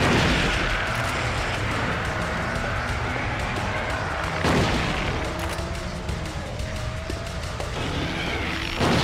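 A shotgun fires during a video game fight against Maria while playing as James, one sharp burst standing out mid-clip over a dense, steady wash of game noise and rumble.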